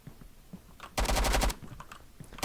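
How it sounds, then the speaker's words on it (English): Shotgun fire in the video game BRM5, heard as a short, dense burst of loud reports lasting about half a second amid quieter background noise. "Yep, this is the guy with the shotgun."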